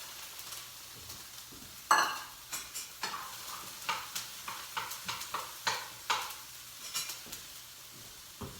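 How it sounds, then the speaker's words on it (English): Diced eggplant and garlic sizzle in a pan over medium heat, a soft steady frying hiss broken by a dozen or so sharp clacks of a spoon stirring against the pan. "Put my garlic in. And I'm going to put my"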